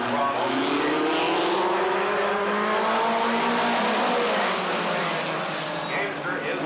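Midget race cars at Anderson Speedway roar as a pack, engines whining and rising in pitch as they accelerate past, loud and continuous under a race announcer's commentary.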